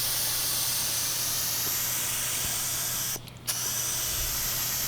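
A spray gun lays a top coat of paint on a DIY coffee trailer, giving a steady, close hiss that briefly cuts out and then resumes.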